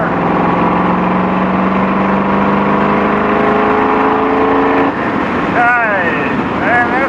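A car engine pulls hard at wide-open throttle in fourth gear, a loud rising whine that climbs steadily for several seconds before easing off, with wind rush and someone speaking over it near the end.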